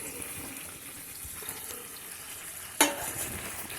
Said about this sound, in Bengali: আলুগুলো দিয়ে আবার ভালো করে নেড়ে চেড়ে মশলার সাথে আমি ভালো করে মিশিয়ে দেব।